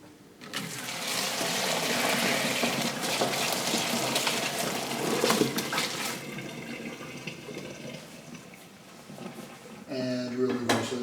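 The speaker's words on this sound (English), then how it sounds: "you're just going to take your spaghetti, and you're just going to drain it all in the colander" Spaghetti drained into a colander in a kitchen sink, a steady broadband rush of pouring water and splashing lasting several seconds, with a clatter of metal near the end and a voice speaking briefly.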